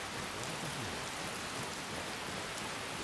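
Heavy rain pours down in Skyrim: Special Edition, a dense, constant hiss, a steady downpour with no voices or breaks.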